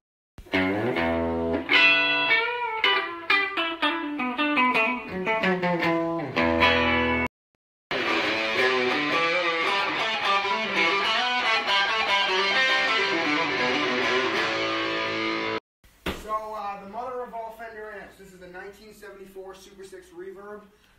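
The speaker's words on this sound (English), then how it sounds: "Up next is my 1970 Vibrochamp, all original with the original speaker." Electric guitar played through an all-original 1970 Fender Vibro Champ amp with its original speaker, heard as clean chords and melodic lines in three close, loud passages separated by short breaks.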